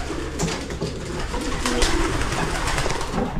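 Pigeons coo softly in a breeder's loft, several low murmuring calls repeating against a busy background of rustling and shuffling birds.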